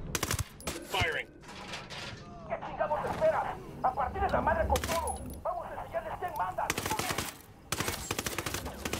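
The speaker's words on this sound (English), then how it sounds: "Firing." Bursts of gunfire in Ghost Recon Wildlands, loud broadband volleys that come in clusters with short gaps between them, mixed with game effects, while voices talk through much of the clip.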